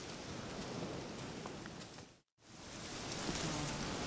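Steady rain falling in The Witcher 3 video game, a dense continuous hiss that briefly cuts out to silence midway before resuming, with no talk.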